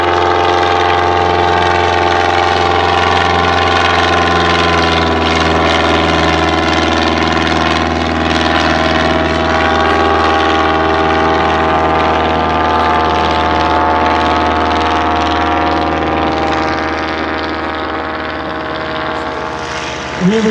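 Avro Triplane, a vintage propeller biplane-era aircraft, drones steadily with a loud, continuous piston engine and propeller roar that holds throughout, easing slightly near the end, with no talk over it.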